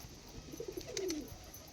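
A soft, brief pigeon coo, faint and low against quiet background noise.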